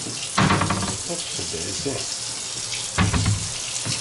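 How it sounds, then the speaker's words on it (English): Water runs from the tap into a stainless steel kitchen sink, a close, steady splashing hiss that swells louder twice as the flow shifts, with a brief spoken exclamation over it. "Stainless steel sink, which I'll turn on for you."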